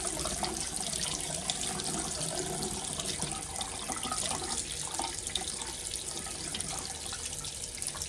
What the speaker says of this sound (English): Let's see how long the water takes to heat up.